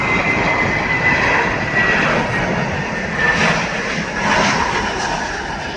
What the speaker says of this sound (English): Hopefully we see this Delta take off.